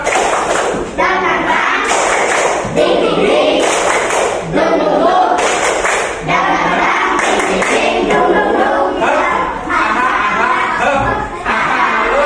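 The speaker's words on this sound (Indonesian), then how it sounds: "Tepuk semangat dulu ya." A school class performs a rhythmic 'tepuk semangat' clapping routine, with bursts of patterned claps and thumps repeating in short phrases, mixed with children's voices and chuckles in a lively classroom.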